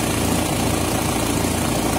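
A leaking diesel tow truck engine idles steadily in a Valledupar street, a continuous low rumble with a rough, vibrating drone, close and fairly loud with no talk over it.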